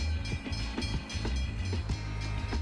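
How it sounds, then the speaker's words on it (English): A train rolls past in a video game, with a low rumbling drone and rhythmic wheel clicks repeating steadily at close range. "There is a train."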